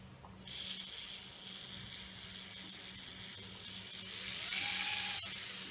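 Tiny brushless whoop drone motors whine as the throttle rises and falls, a thin high-pitched hiss swelling toward the end with a faint rising tone, close and steady with no talk.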